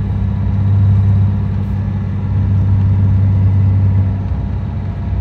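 A BMW E34 535i with its M30 inline-six and flipped intake manifold pulls hard under acceleration, a steady droning engine note holding loud and close for several seconds with no talking.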